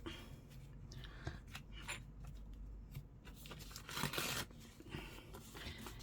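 Paper being torn by hand around a printed picture on a book page for junk journal ephemera, a few ripping crackles with short pauses between them, close and fairly quiet.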